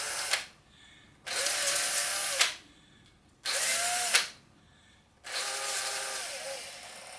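Power drill spins a Pro-Sharp sharpener on a carpenter's pencil in three bursts, each a bright, close, steady whir lasting about a second and a half, starting abruptly and cutting off into short quiet gaps.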